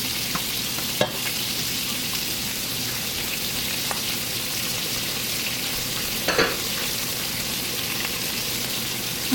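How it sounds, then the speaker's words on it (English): Browning meat in a pot for red beans and rice hisses in a dense, continuous sizzle, with a couple of brief stirring scrapes standing out near the start and middle; close, loud, and free of speech. "So I'm gonna give that a good stir."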